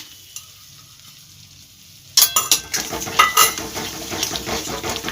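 Spices and butter mushroom stirred and sautéed in a pan, near-silence at first, then sudden sizzling with scraping clinks of a utensil against the pan, growing steady and busy.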